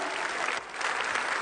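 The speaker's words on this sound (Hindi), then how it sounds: "तालियां बजाओ यार अपने क्या" An audience at a public program in Chandigarh breaks into dense, steady applause, loud and continuous, with a slight dip midway and no other sound above it.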